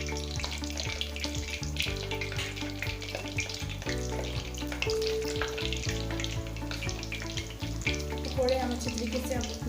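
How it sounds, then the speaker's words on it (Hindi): Mixed vegetable pakoras bubble and sizzle steadily in hot oil, with scattered crackles and pops under background music. "पकौड़े डाल के फ्राई कर लेती हूँ।"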